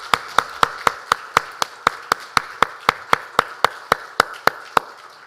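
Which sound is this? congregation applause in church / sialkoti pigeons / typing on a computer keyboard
congregation applause in church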